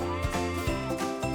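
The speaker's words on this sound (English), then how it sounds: "A goat." A goat bleats in three quick, close wavering calls, one after another with no pauses between them.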